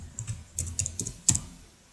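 Short bursts of keystrokes on a computer keyboard, a few quick clustered taps close up in a quiet room.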